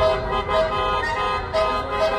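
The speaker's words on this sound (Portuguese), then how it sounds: "Sabe o que é esse buzinaço?" Car horns blaring at a street protest in Minas Gerais, Brazil, with repeated loud, overlapping honks sounding continuously amid traffic.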